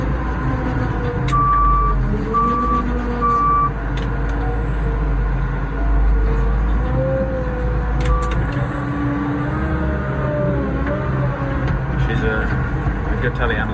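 A telehandler works on a farm during hay baling, its loud engine droning steadily throughout while a series of intermittent reversing beeps sounds over it.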